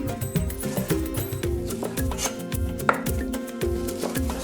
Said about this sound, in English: we're just dicing it up, ready for the mincer